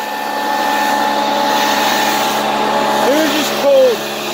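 An air compressor drones continuously while tires are aired up, a loud, steady mechanical hum that stays close throughout, with a person speaking briefly over it near the end.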